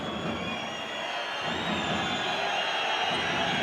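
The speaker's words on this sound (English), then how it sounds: "The crowd baying and whistling with every French attack to try and unsettle them" A handball arena crowd whistles and bays at a French attack during a France versus Hungary EHF Euro 2012 match, forming a dense, steady roar with shrill whistles running through it.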